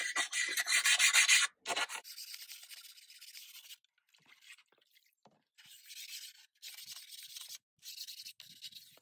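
A small cheap stone rubs along the edge of a finished glass garden piece to smooth it, giving close, gritty scraping strokes in several bursts with brief quiet gaps between them.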